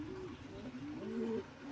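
Soft, low cooing from homing pigeons, a mix of show or fancy homers and racing homers kept in a loft, heard as a rising and falling warble at moderate distance against a quiet background.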